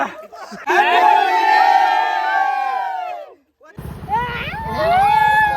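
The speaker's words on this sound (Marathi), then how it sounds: "बघून घ्या तुम्ही गर्दी" Crowd of holiday revellers gathered at a packed river on Dhulivandan (Holi), with loud, close shouting and whooping voices throughout, briefly dropping to near silence before the crowd noise returns.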